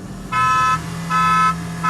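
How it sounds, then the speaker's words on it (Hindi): A car horn sounds at the start of a drag race between a Tata Safari and a Toyota Fortuner, giving two loud, evenly spaced honks and the start of a third over a low engine hum. "थोड़ी थोड़ी खोल लो बस, जो हॉर्न की आवाज़ सुन जाए।"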